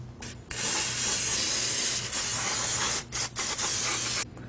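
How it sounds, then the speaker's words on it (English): Brake cleaner sprayed from an aerosol can onto car brake rotors, a loud close hissing spray in long bursts with a few short breaks, no talking. "get some brake cleaner, spray that off, and turn this as you go"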